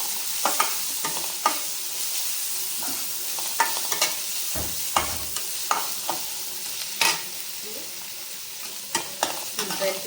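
Vegetables and onions fry lightly in a pan with a steady broadband sizzle, broken by repeated scraping clicks of a stirring spoon, close and fairly loud, with no talking.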